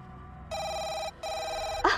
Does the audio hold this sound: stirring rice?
no